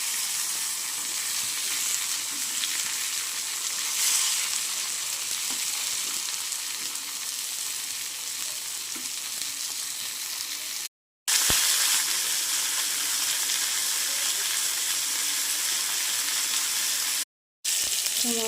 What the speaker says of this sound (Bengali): ভাজা খুব সুন্দর ভাজা হচ্ছে। একটু নাড়িয়ে চাড়িয়ে দিই